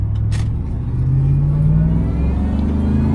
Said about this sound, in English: Gotta get that blower whine.